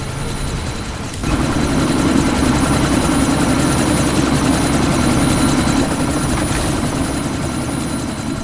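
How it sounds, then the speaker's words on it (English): A helicopter in the Deus Ex: Mankind Divided video game runs loud and close as it readies to take off, a dense steady rotor-and-engine roar that swells after a second and then holds without talk. "That chopper's about to take off!"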